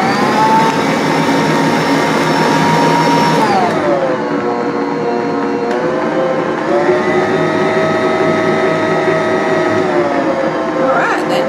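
An electric mixer churns oatmeal cookie dough in a home kitchen, a loud, continuous motor whine that drops in pitch partway through and later climbs again, running without pause.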